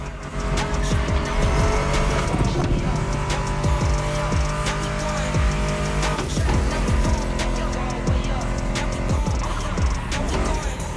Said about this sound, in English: Meshes well with the sound of the engines, you feel me?